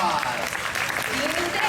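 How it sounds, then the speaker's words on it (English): A crowd of spectators applauds at the Flights of Wonder bird show at Disney's Animal Kingdom, brief steady clapping heard up close with a voice talking over it. "Give them a big round of applause."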